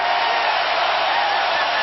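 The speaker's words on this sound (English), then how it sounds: "Oh, this crowd is alive again." An arena crowd at Game 4 of the 2007 NBA Finals, San Antonio against Cleveland, cheers in a sustained, loud, even roar with no breaks.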